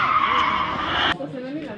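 Car drifting during a drift taxi test in Logatec, tires skidding in a loud, sustained screech that cuts off abruptly near the end, leaving engine rumble and faint voices.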